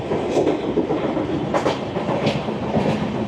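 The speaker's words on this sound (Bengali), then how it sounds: "আমাদের ট্রেন পার করে গিয়েছে যোগিন্দরনগর" The Garib Rath Express on its long-distance run from Agartala to Kolkata through Tripura rolls steadily along the rails. A constant rumbling clatter is broken by a few sharper wheel clicks and knocks, heard from inside the train.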